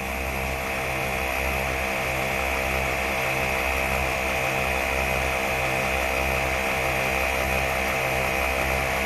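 An ARB twin air compressor on a 4WD Sprinter van runs steadily while inflating two 34-inch tires at once, a loud, continuous droning hum with a fast, even pulsing rhythm and no pauses.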